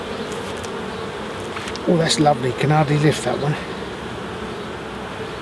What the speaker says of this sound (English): Oh dear, these are lovely bees.